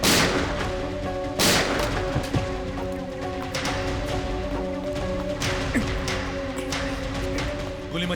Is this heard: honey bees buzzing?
no